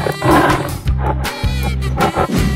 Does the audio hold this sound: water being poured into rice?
no